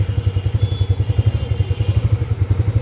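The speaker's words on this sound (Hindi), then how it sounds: "और देखो CNG पे इसका पिकअप देखना, उठा ली, पहले गियर में डाली," A Bajaj Freedom 125 motorcycle running on CNG pulls away in first gear, its engine giving a loud, close, fast-pulsing low thrum with a steady rhythmic beat throughout.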